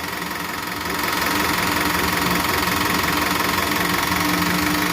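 A Toyota 1KZ diesel engine with a mechanical injection pump revs hard and holds high, a loud, close, steady roaring drone with knocking texture after a brief lower start.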